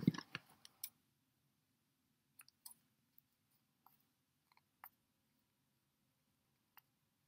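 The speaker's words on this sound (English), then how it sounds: "we need to do a tiny bit more trimming with the scissors" Small scissors snip at a tiny handmade miniature figure's hair, giving sparse, faint, crisp clicks spaced irregularly in a quiet room, with a brief rustle of handling at the start.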